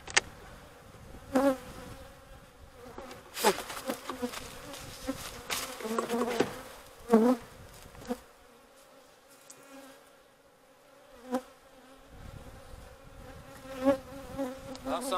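Honeybees buzz loudly in a dense, continuous swarm around an opened beehive box during a quick inspection, with sharp close passes of individual bees flying near the listener over the steady hum.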